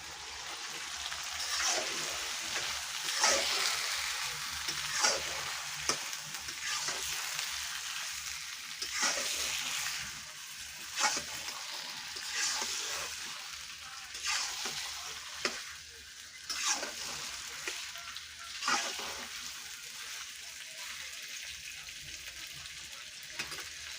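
Desi chicken meat fries in a pan with a steady, close sizzle, broken by repeated scraping stirs that recur every second or two across the whole stretch, with no voices.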